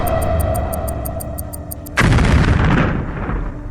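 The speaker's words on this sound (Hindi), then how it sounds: "देखो, ये तो ग्रीन गॉब्लिन का कद्दू बम है। कितना बढ़िया है। लगता है मैंने इसे एक्टिवेट कर दिया है।" A Green Goblin pumpkin bomb toy gives a quick series of high, evenly spaced ticking beeps, then bursts into a loud, close, crackling explosion that slowly fades away.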